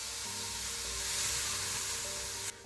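Mussels sizzle steadily in a hot non-stick pan for a Greek-style midye pilaki meze, a continuous bright crackling hiss that cuts off abruptly near the end.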